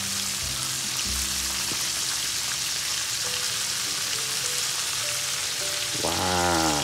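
Battered oysters deep-fry in hot oil with a dense, steady sizzle and crackle, and a louder burst of frying near the end. Music plays underneath.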